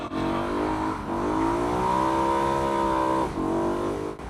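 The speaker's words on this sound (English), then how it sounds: "When you step on the gas like this," A V8 BMW M3 convertible with a dual-clutch transmission accelerates hard, its engine rising loud and near through a long climbing rev, then dips briefly at a gear change before pulling again.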